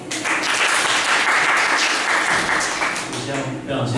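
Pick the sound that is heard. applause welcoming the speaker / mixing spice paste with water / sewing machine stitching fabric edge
applause welcoming the speaker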